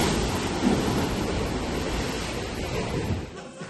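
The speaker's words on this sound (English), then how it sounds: "the waves hit the rocks and make a loud sound like thunder" Ocean waves crash against the rocks at Thunder Hole in Acadia National Park. The roar of surf is loud and close and sounds like steady wind, with a brief surge near the start that eases off toward the end.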